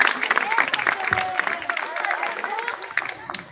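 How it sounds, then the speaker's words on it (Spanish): Applause at a school backpack contest, a crowd clapping and cheering with a lively, uneven texture while voices chatter and call out over the noise. "Un aplauso fuerte."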